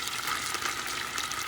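Sofrito and tomato sauce sizzle in a pot over medium heat, a soft, steady crackling hiss with no talk, fairly quiet and even.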